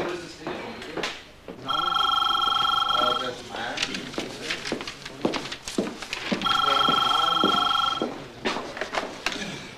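A telephone rings in two long electronic trills a few seconds apart, loud and indoors, with people talking in between the rings.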